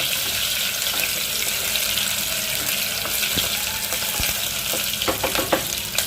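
Red pumpkin and jaggery sizzle steadily in a frying pan while being stirred, a continuous close hiss with occasional scraping clicks and utensil knocks toward the end, and no speech.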